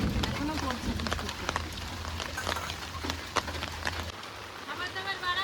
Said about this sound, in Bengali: এখনো পড়ছে বৃষ্টি।